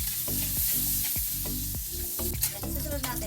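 Meat for adobo sizzles steadily in hot oil in a frying pan, a dense continuous crackle close up, with occasional scraping of a utensil stirring through it.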